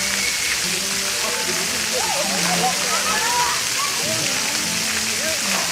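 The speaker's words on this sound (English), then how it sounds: "Splash pad, check it out." Water sprays and splashes continuously from a splash pad in a hotel pool area, a broad hissing rush in the background while someone talks over it.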